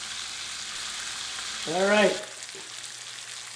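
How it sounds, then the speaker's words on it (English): Chicken livers dredged in corn flour fry in a pan with a constant bright sizzle throughout, close up, while a voice speaks briefly over it. "Here I am frying up the second batch."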